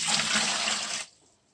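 Water is dumped from a whole-house water filter housing in a steady splashing rush for about a second, then stops abruptly, leaving quiet.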